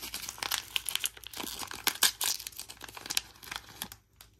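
Plastic packaging crinkles and crackles in rapid, irregular bursts as mini toys are unwrapped close up, with no voices, fading out at the end.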